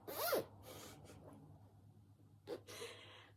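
Zipper on a cross-stitch project bag with starry print fabric being opened in one quick zip near the start, followed by faint rustling and a second short zip pull toward the end, close and fairly quiet.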